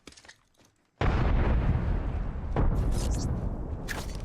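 A frag grenade detonates in Apex Legends, a sudden loud blast after a brief quiet stretch, followed by a long rumbling decay with a second crack partway through and scattered debris and sharp high bursts near the end.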